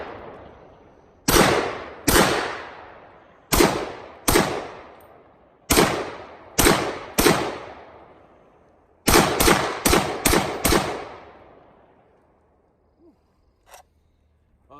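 Springfield Armory M1A Loaded rifle fired outdoors at random targets, eleven loud sharp shots in uneven clusters, some spaced and some in quick succession, each with a decaying echo, followed by quiet.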